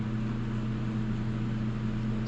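Heater running steadily in a cold workshop on a 7-degree day, a constant low hum with a broad airy whoosh, close and unchanging with no talking.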